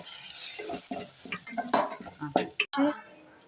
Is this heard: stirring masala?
yes